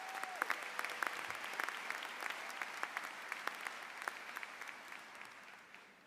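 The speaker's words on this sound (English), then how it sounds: "So give him a round of applause." An audience applauds steadily at a law school commencement, a dense, sustained spread of clapping from a large crowd at moderate distance that fades gradually toward the end.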